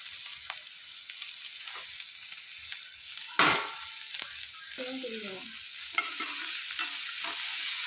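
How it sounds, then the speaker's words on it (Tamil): Egg roll filling sautés in a pan with a soft background sizzle, while a spatula stirs and scrapes intermittently and one sharper clatter lands partway through, close by and fairly quiet. "எல்லாத்தையும் சேர்த்து லைட்டாக ஒரு வதக்கிக்க வேண்டியதுதான்."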